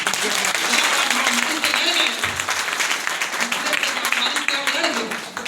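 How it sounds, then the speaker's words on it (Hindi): Audience at a direct-selling program in a hotel hall breaking into applause: dense, continuous clapping from a crowd, with voices mixed in, tapering slightly at the end. "ताली बनता है कि नहीं बनता?"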